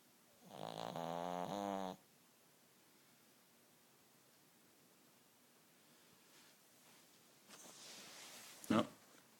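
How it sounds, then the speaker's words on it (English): A sleeping dog gives one long, loud rasping snore up close, followed by quiet breathing and then a brief rustle and snort as it stirs in a quiet room. "Snoring dog."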